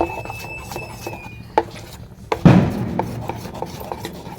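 A hand mixes bhajji batter with a little added oil, giving soft, uneven squelching and rubbing strokes up close, with one louder wet slap partway through.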